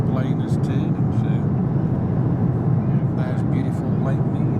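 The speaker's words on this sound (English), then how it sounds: "And the plane is turning" An airplane in flight banks through a turn near Las Vegas, its cabin filled with a steady, loud, low engine drone while a person talks over it.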